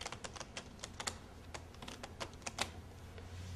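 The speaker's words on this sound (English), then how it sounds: "I'm going to shuffle the cards like this." A deck of playing cards is shuffled close up, making a run of quick, light flicks and taps, faint and uneven, with no voices.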